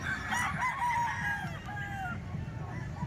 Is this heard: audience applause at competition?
no